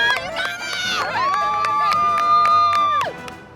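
A small crowd cheers and whoops with high, tonal shouts and yells, swelling into a sustained, loud cheer before breaking off near the end.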